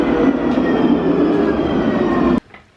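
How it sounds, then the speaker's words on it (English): A tram rumbles past close by with a steady, loud roar that cuts off abruptly near the end, followed by quiet. "Here goes the tram"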